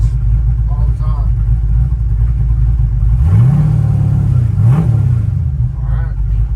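Carbureted 5.3 LS V8 idling with a low steady rumble, then revved twice in quick rising-and-falling pulls, close and loud; people talk briefly around it.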